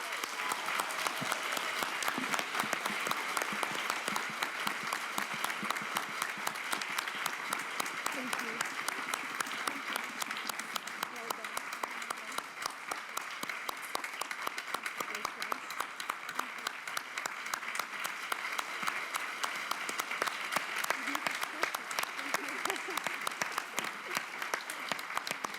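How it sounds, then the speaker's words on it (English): Sustained applause from an awards ceremony audience honouring a prize winner for aspiring journalists, a steady dense clatter of many hands at moderate level throughout, with some faint voices underneath. "please join me in applauding the first winner"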